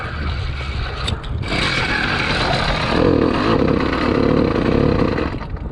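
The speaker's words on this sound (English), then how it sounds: "I was revving it, did nothing, then all of a sudden did something, then died" A small motorized bicycle engine with new carburetor jets, choke open, buzzes and revs unevenly, rising in a rough surge before the sound cuts away as it dies, heard close up.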